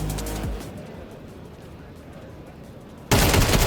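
AWP sniper rifle fire in a Counter-Strike 2 match: a loud, sharp shot at the start, a stretch of game noise, then another loud blast near the end, with no talk heard.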